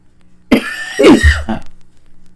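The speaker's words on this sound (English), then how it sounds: "Man, I'm coughing my head off." A person coughs harshly two or three times in quick succession, close and loud, with a rough throat-clearing quality between bursts.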